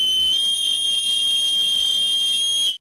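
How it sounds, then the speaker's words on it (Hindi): An old whistle sounding by itself in an animated horror story: a steady, piercing high whistle tone held continuously and loudly for nearly three seconds, then cutting off abruptly. "उसकी जेब से एक पुराना सीटी खुद ब खुद बजने लगी।"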